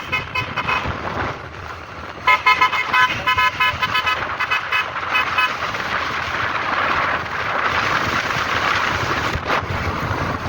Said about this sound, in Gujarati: city bus